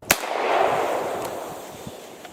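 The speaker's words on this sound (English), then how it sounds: "now let's play the gunshot being fired in the woods" A single sharp gunshot in the woods cracks out, followed by a long fading echo and a few faint distant knocks, a video game sound effect.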